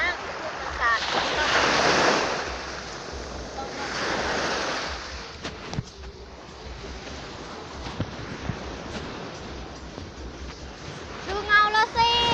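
Sea waves wash and splash onto a beach in broad surging swells, with wind buffeting the microphone and a voice and other people talking faintly nearby.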